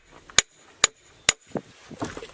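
A hammer strikes a 50 kg iron working anvil floating on liquid mercury three times, each a sharp, bright metallic clang with a short ring, evenly spaced, followed by softer duller knocks and handling noise.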